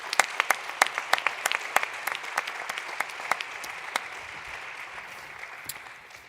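Audience claps for conference panelists, a sparse scatter of sharp individual hand claps that starts fairly lively and thins out toward the end, heard alone without voices.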